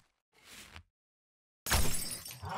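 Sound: glass breaking in 7 Days to Die video game

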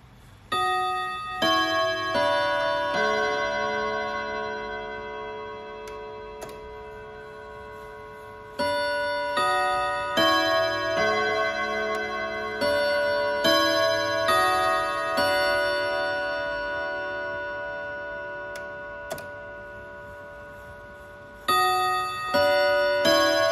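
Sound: FFR antique clock striking its chime

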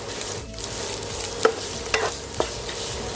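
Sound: stir-frying salted turnip (chai po) in a pan

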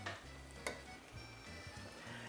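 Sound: stirring peas and vegetables in a boiling pot

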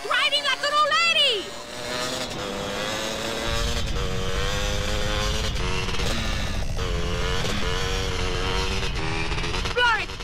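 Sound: vehicle engine while driving, from video game GTA San Andreas

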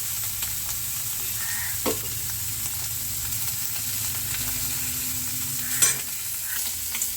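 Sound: frying in oil

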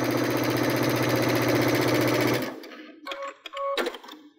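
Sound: Baby Lock sewing machine with digital dual feed, sewing into seams

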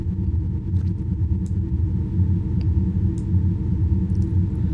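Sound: flat synthesized car engine sound in Unreal Engine 5

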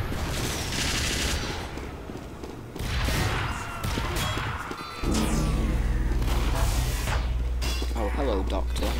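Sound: gunfire in Team Fortress 2 video game

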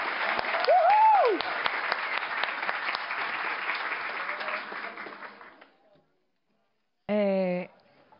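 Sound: applause

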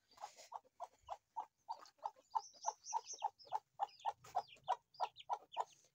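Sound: Aseel rooster in its pen

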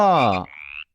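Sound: frog croaking

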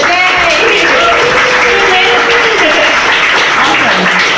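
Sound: audience applause

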